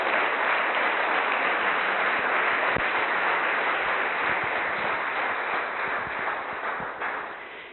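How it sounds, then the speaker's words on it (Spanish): Church congregation applauding during a Spanish-language sermon, a steady dense wash of clapping that holds loud for several seconds and slowly tapers off toward the end. "denle el aplauso al Señor"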